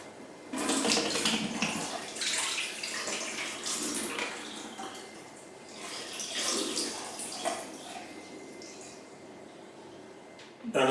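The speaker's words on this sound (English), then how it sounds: "we're just pouring the rest of the liquid first out of the dock" Home-brewed beer pours from a Pinter brewing device, a continuous splashing, gurgling stream that swells and eases, close and fairly loud, with a faint voice underneath.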